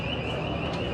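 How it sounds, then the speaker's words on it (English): An alarm sounding inside a MediaMarkt electronics store in Valencia, Spain, a steady, loud, continuous tone over dense store noise, heard for about a second with no talking. "sounds like some kind of alarm is going off."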